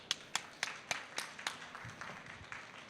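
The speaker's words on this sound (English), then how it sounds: "let's give a round of applause for our Polish startups" Applause at a startup stage session at the InnoVEX 2019 tech expo, a ragged run of sharp claps from a modest audience that thins into a softer, continuous patter.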